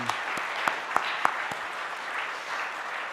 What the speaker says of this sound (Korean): 우리 하나님께 영광의 박수를 한번 드립시다